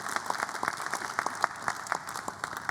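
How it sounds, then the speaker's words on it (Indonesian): Audience applause at the 7th anniversary celebration of the Perindo party in Indonesia, a steady patter of many hands with sharp individual claps standing out, moderately loud and sustained throughout. "Boleh tepuk tangan yang meriah para hadirin."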